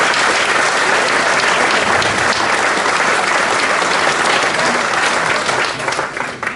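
Applause fills the room at a French stage show, a thick, continuous wash of clapping from a large audience that holds steady and then tapers off near the end.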